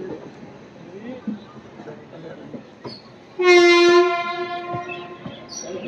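An Amrit Bharat Express train rumbles along the tracks leaving Bardhaman, then a loud, sustained horn blast sounds midway through and fades back into the steady rolling noise, heard from onboard.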